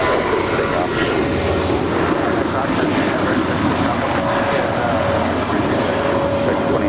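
An American Airlines jet rolls down runway 25 right at Los Angeles International for takeoff, its engines a loud, steady broadband roar with a sustained tone, unbroken for the whole stretch.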